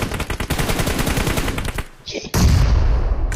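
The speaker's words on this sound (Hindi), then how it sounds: "आगे सामने से फायर आ रहा है" Rapid bursts of gunfire in the mobile battle royale game BGMI, a dense run of loud close shots, a brief lull, then heavier firing resuming with some voice mixed in.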